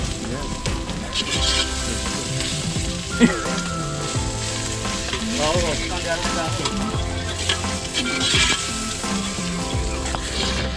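Onions and garlic frying in a clay pot for a clay-pot chicken dish, a continuous crackling sizzle with spoon scrapes and stirring knocks, while a person talks over it.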